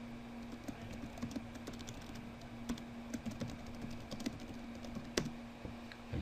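Keystrokes on a computer keyboard clatter steadily throughout, quick irregular clicks fairly close with a faint constant hum beneath and no voices.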